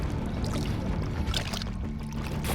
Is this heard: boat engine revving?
yes